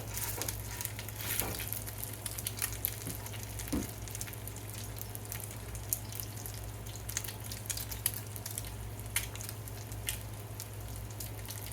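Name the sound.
food sizzling while frying in oil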